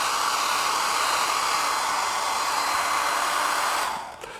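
A hair dryer is passed up and down a string of tinsel balls, giving a loud, close, continuous airy roar that holds steady before cutting off abruptly near the end.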